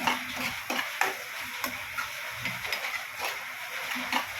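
Mushroom masala paste frying in a pan over a medium flame, with quiet sizzling broken by repeated scraping and stirring strokes of a spoon close by.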